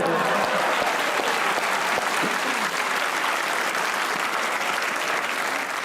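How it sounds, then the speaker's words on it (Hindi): A studio audience applauds at a talk show, dense steady clapping filling the whole stretch at close, even loudness. "हमारी ऑडियंस की इनके लिए एक बार तालियां होनी चाहिए।"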